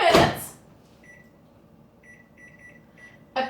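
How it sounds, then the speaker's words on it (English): A microwave oven is set for five minutes at power level 5, with a burst of noise at the start, a series of short keypad beeps, and then a soft steady hum. "We're going to head into the microwave for 5 minutes"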